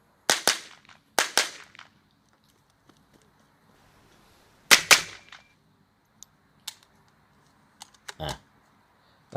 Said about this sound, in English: That sounds like a light strike, but sounds like a misfeed